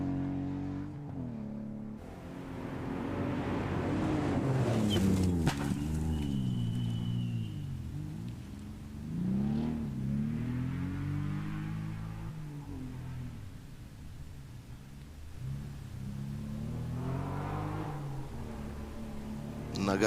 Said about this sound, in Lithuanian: C2VD įskaitoje lenktyniauja 10 numeriu pažymėtų BMW